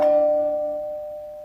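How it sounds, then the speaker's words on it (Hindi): A single electronic doorbell chime rings out clearly, a bright sustained tone that slowly fades away with no one speaking. "अरे बेटा देखो इतनी घंटी बज रही है, कौन आया जरा देखो"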